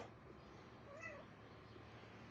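A pet cat named Grump gives a single short meow, faint and somewhat distant against a quiet room background.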